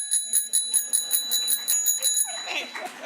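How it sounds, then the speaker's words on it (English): A handheld bell from the Tübingen Goes Blue climate campaign rings repeatedly in a steady, bright rhythm for about two seconds, then gives way to a burst of noisy room sound. "the Tübingen Goes Blue bell."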